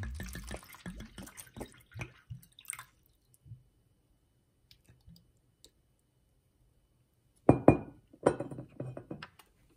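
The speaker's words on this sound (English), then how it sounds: "Let's pour some water in." Bottled water from a premium brand is poured into a glass, giving a short splashing burst with clinks near the end, after some earlier clicks and handling noises, with no talk.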